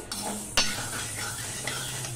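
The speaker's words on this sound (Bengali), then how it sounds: "এবার সমানে এইভাবে নাড়তে থাকবো গরম কড়াইতে" A spatula scrapes and clinks against a hot wok while urad dal is stirred, with a sharp metallic tap near the middle over a soft dry rustle; no speech.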